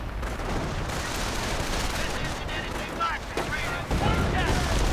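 Mortar impacts and gunfire crackle in a WWII strategy video game battle, a continuous dense barrage of shots and low booms with heavier bursts near the end, while a commentator talks throughout.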